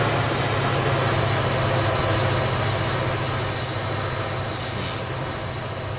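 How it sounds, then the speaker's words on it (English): Steady rumble and drone of a CSX/BNSF oil train rolling past in Train Simulator 2016, a constant loud wash with a faint high whine running through it, easing slightly toward the end. "Here comes what looks like a CSX/BNSF oil train with what looks to be"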